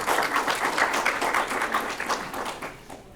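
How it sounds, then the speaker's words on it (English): A room of realtors at a Florida district update conference applaud together, a full, even wash of clapping that holds steady and then gradually thins out toward the end. "So give yourselves a round of applause."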